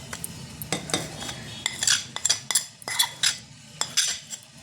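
Coconut powder, powdered sugar and jaggery mixed in a bowl, heard as a close series of sharp spoon clinks and scrapes against the dish in an uneven rhythm, with no voices.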